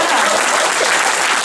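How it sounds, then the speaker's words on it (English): Loud, continuous applause from a charity concert crowd, dense clapping filling the whole moment without a break. "give him a round of applause"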